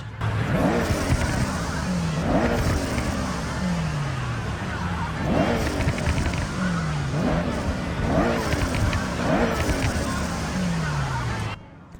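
Toyota GR GT, front-engine rear-wheel-drive high-horsepower car, in Forza Horizon 6, accelerating through repeated gear changes, each pull rising in pitch then dropping at the shift, loud and continuous, about five cycles.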